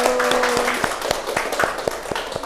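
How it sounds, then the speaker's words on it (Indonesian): Schoolchildren in an Indonesian classroom clap their hands in a short rhythmic burst, sharp evenly spaced claps over a faint background hum and a brief tone. "Oke, tepuk tangan dulu."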